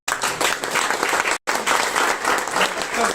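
An audience at a series-finale success celebration breaks into loud, dense applause, broken by one very short gap before the clapping resumes just as strongly.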